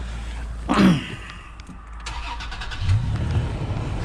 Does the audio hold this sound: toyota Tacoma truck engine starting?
yes